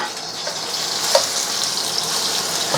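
Oil sizzling steadily in a hot wok, a dense, close hiss with faint pops and crackles throughout and no talk.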